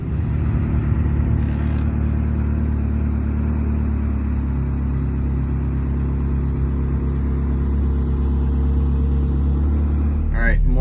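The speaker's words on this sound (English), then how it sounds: "about to take the car on track for the first time and do the brake bed in" A race car runs on the track at New Hampshire Motor Speedway during a test-day brake bed-in, its engine a steady, loud, continuous rumble that holds for the whole stretch with no talking.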